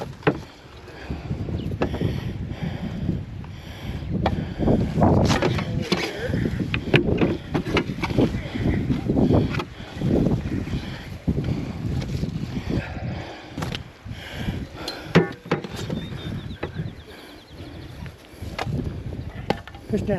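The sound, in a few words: strong wind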